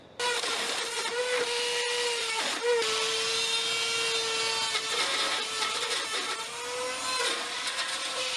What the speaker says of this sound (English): The sandpaper's getting stuck and it's not spinning properly.